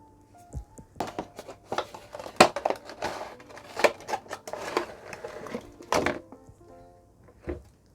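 Plastic packaging of a Star Wars Black Series action figure being opened: scattered crinkles, snaps and small knocks close by, irregular and fairly quiet.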